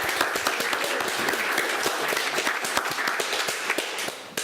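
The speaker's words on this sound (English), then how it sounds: "Round of applause for him, guys." A small gathering applauds a speaker, distinct individual hand claps forming a moderate, close round of clapping that continues for several seconds.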